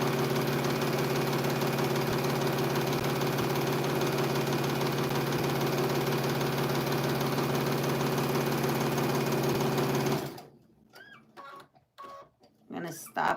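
Sewing machine stitching quilt fabric for half square triangles runs steadily and loudly with a constant whir for about ten seconds, then stops abruptly, leaving faint handling clicks and light rustling.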